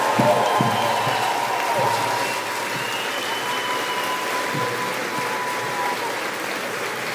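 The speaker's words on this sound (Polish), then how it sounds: "Brawa, brawa dla niej!" Festival crowd at Pol'and'Rock 2018 applauding during a stage meeting with Himalayan climbers, a dense, loud wash of clapping with cheering mixed in that holds steady for the whole stretch.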